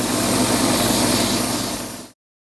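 A cross-cut pen blank spinning on a wood lathe while being sanded, giving a steady loud whirring hum with broad abrasive hiss that cuts off abruptly near the end.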